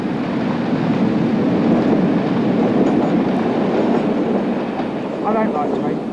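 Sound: electric train passing

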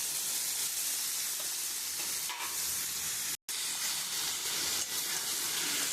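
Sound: spice masala frying with boiled green jackfruit added

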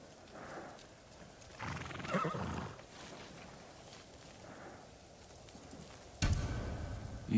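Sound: horse neighing in a video game

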